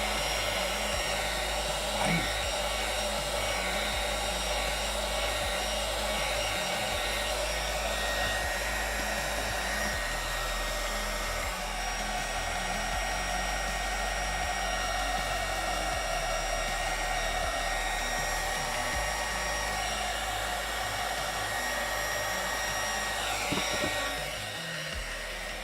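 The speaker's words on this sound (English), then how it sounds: "I gotta break out this air dryer" A hair dryer blows steadily to dry fresh paint, a loud continuous whooshing hum that runs unbroken for the whole stretch with only slight shifts as it moves, and no talking over it.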